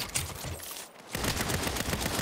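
Dense, sustained gunfire from the Saints Row video game, a loud continuous barrage of rapid shots with a brief dip near the middle before the firing resumes at full intensity.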